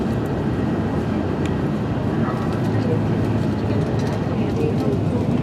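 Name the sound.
train passing over the high speed line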